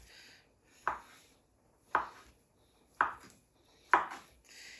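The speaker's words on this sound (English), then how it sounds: "And I'm just going to cut these slices into little squares." Knife slicing fresh mozzarella into small squares on a board, four evenly spaced, crisp chopping taps about a second apart, close and fairly quiet, with nothing else heard.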